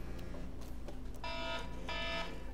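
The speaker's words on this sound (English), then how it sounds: "The alarms everywhere." Alarms sound in a Minecraft FTB Agrarian Skies game, where repeated electronic beeping tones come in two short bursts over a low background hum.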